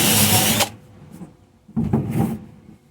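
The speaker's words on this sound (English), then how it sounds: "We'll just keep doing that until this entire panel is welded" Welding a floor panel on a 1956 Studebaker Power Hawk: two close, harsh buzzing bursts, a loud one that stops sharply, then after a quiet gap a second, slightly softer stretch.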